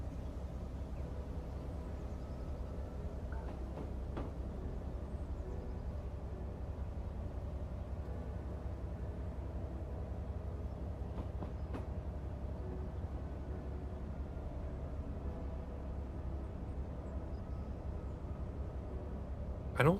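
A non-electric train runs along the track in the railway simulator game Train Life, with a steady low rumble throughout and a few faint clicks over the continuous drone.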